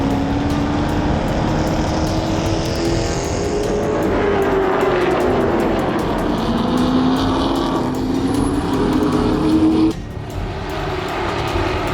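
Race cars at speed on a track during a 100-lap race in hot weather, a continuous loud engine roar with pitch sweeps as cars pass, steady throughout and dipping briefly near the end.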